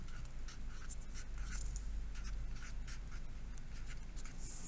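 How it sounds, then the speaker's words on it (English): Pen or marker writing a word on a paper sea-floor spreading model, steady soft scratching strokes in close, repeated short bursts over a low background hum. "let's write the word subduction"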